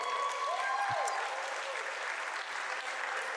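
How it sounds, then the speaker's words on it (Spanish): Steady applause fills a wedding reception hall as guests clap for the maid of honor, a dense, even wash of many hands at moderate distance. "Jennifer, give her a round of applause."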